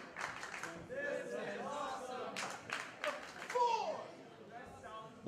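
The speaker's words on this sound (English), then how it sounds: "Crowd showing their appreciation for both men." Wrestling fans at the Caleb Konley versus Gran Akuma match clap and cheer for both men, sharp rhythmic handclaps rising through a lively crowd with voices mixed in.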